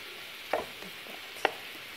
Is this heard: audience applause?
no